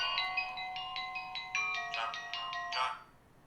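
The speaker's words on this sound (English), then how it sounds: "Why is that ringing?" A phone rings with a repeated electronic ringtone of about a dozen short, evenly spaced tonal pulses, loud and close, ending in a brighter burst before it cuts off.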